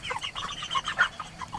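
Fast-growing backyard chickens in a hoop coop clucking in a close, busy cluster of short overlapping calls and chatter, with no talk over them.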